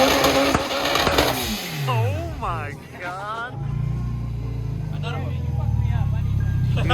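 A supercharged K-Series all-wheel-drive EG hatch launches hard, its engine roaring loud and close beneath excited voices, then settling into a steady low drone.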